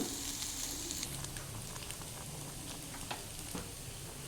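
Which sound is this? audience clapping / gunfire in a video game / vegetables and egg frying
vegetables and egg frying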